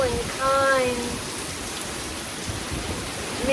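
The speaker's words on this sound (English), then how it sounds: "May you remember this rain class as we sat in the rain together." Steady rain falls outdoors during a rainy-day yoga class, a dense even hiss throughout with a brief faint tonal chirp near the start and no talking.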